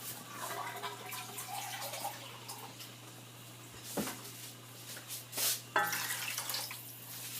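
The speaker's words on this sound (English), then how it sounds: "here I'm adding a cup of water" A cup of water poured into simmering shrimp malai curry gravy in a pan, a soft splashing pour with a few louder gushes near the end over a steady low kitchen hum.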